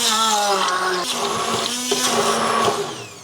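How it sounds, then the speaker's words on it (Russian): A blender pureeing boiled beets whirs loudly and steadily, its motor pitch wavering as it churns the thick mixture, running for a few seconds before easing off. "мы сейчас пропустим через блендер вареную свеклу"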